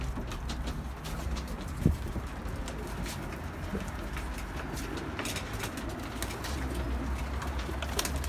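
Pigeons coo softly at a distance near a pigeon loft amid steady outdoor background noise, with a brief thump near the start.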